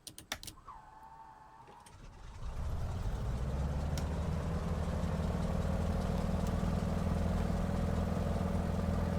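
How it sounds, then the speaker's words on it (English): A Beechcraft D17S Staggerwing radial engine starts in Microsoft Flight Simulator 2020: a few clicks and a brief whine from the starter, then the engine catches and settles into a loud, steady rumbling idle. "That engine sound is rather nice"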